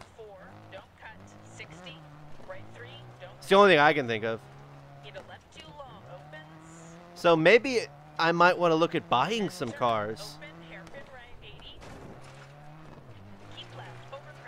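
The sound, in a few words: Subaru Impreza rally car driving in video game DiRT 4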